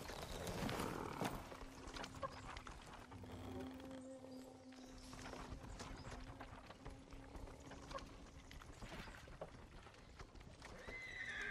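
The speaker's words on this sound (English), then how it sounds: "Follow those horses." Horses in the Ghost of Tsushima video game neigh and whinny over a steady clatter of hooves, with a continuous busy background of game ambience throughout.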